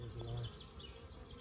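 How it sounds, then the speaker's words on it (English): Honeybees fly around an opened colony box while a smoker is in use, a close, steady low buzzing that swells briefly near the start and then settles into a continuous hum. "Bees flying in this colony as well."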